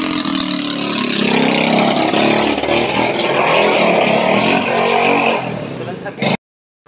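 A motorcycle engine idles loudly and steadily up close, with voices talking over it, then cuts out abruptly near the end.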